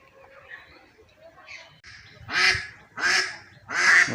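Domestic ducks on a village pond give three loud, harsh honking calls in quick succession near the end, after a quieter stretch of soft, scattered calls.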